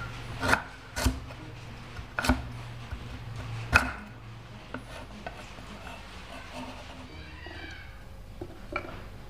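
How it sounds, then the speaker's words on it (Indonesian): Galangal being ground smooth for an Indonesian bitter melon dish, heard as a few sharp rasping, pounding strokes in the first four seconds, then quieter intermittent scraping. "Lengkuasnya juga kita haluskan supaya aroma dan rasa lengkuas akan lebih terasa pada masakan kita."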